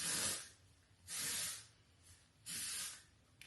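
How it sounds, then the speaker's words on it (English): Texture spray hisses onto hair roots in three close bursts, each lasting about half a second to a second with short pauses between, and no voices. "with my texture spray, I like to also go in my roots and spray to give some added volume."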